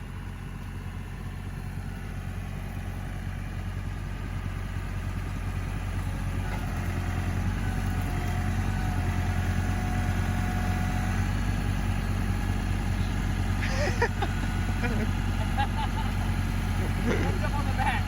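A tractor engine runs steadily while lifting a full IBC tote, a continuous low rumble throughout with faint clanks near the end.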